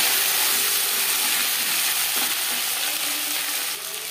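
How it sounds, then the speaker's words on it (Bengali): Potatoes fry in oil with cumin and slit green chillies, a dense, even sizzle heard up close that eases slightly near the end, with no talk. "জিরে লঙ্কা ভেজে নেওয়ার পর দিয়ে দেবো আলু।"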